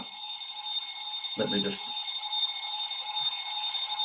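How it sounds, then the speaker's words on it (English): Alarm going off in the morning, a steady high electronic tone ringing through the whole stretch, with a person briefly speaking over it. "I can't turn my alarm off this morning."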